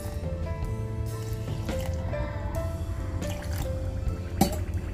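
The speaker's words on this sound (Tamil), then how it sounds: "1 கப் அளவு வந்து தண்ணி ஆட் பண்ணிக்கிறேன்" Water is poured into a bowl of maida flour batter, giving a steady trickling, dripping liquid sound with soft squishy splashes. It runs continuously at moderate loudness with no talk.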